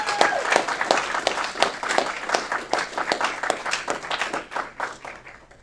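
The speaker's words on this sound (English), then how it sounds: "Let's give him a round of applause." Audience members at a city committee meeting clap for a parade grand marshal, a moderately dense round of applause with distinct individual claps, fading gradually toward the end.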